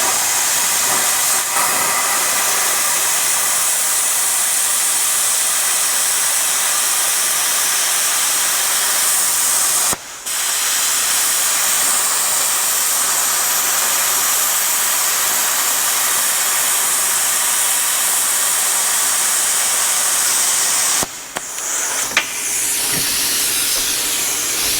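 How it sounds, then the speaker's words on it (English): A BestArc BTC500DP plasma cutter on 220 volts at 50 amps makes a long straight hand-fed cut across 1/4 inch steel plate, a loud steady roaring hiss broken by two short drops in the arc, with no talking. "Let's do a straight cut across this 1/4 inch plate while using 220 at 50 amps."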